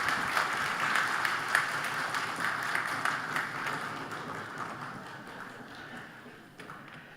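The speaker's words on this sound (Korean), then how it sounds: "박수로 환영하시겠습니다." A church congregation at an elders' dedication service applauds to welcome the senior pastor, with some people tapping desks. The clapping is brisk and crowded at first, then gradually thins and fades.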